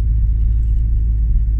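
A car rolls slowly along quiet wooded residential streets in Jurmala, Latvia, its engine a low, steady interior rumble throughout.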